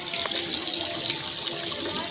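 Water splashing steadily from a tap or pour for washing feet at a village temple, a continuous close rushing flow, with voices faintly underneath.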